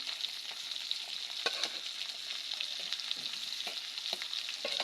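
Hilsa fish fry in hot oil, a steady, fine sizzle with scattered pops and spits, fairly soft and continuous throughout.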